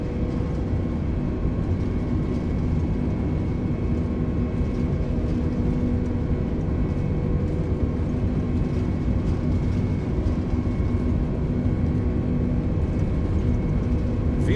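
An A32NX airliner in Microsoft Flight Simulator rumbles down the runway on its takeoff roll, a loud, steady engine roar with a constant low drone and faint hum throughout.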